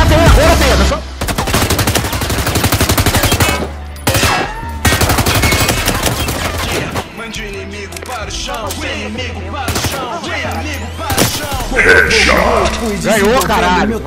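Gunfire in the Firewall Zero Hour video game: loud bursts of automatic weapon fire and rapid shots come in clusters with brief gaps between them, and sustained volleys follow near the end.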